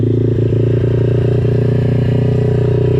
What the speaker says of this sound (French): Ah mais elle marche bien en fait cette petite moto